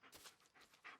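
A dog in the Blair Witch video game pants in a few quick, breathy bursts, close and fairly quiet, ending with a sharper louder puff.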